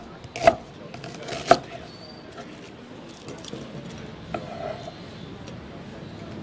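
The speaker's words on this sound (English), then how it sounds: "thinly sliced onion." Onion sliced thinly with a knife on a cutting board, two sharp distinct chops followed by softer cuts, close up, with faint background noise and no talking.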